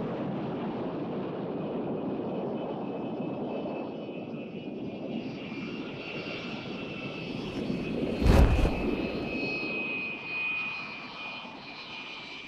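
A high-altitude spy plane flies past with a steady, droning engine roar and a faint whine, swelling briefly in a louder rush partway through before settling back to an even hum.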